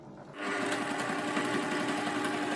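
A sewing machine stitches quilt seams, starting after a brief quiet moment and then running at a steady, fast, even buzz, close and loud, with no talking.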